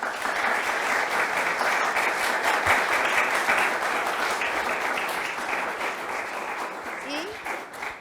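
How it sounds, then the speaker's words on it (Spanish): An audience at a university talk on Judaism applauds in a sustained, dense burst of clapping that slowly fades toward the end, with some voices mixed in. "Hemos de darle un aplauso al Dios de los cielos por este hombre que nos ha bendecido en venir"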